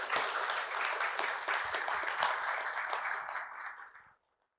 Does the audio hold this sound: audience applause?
yes